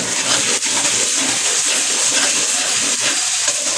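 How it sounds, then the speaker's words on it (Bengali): Spice masala frying in a pan at home sends up a loud, continuous broadband sizzle and steamy hiss, close and unbroken, with no voices over it. "মশলা কষা হচ্ছে"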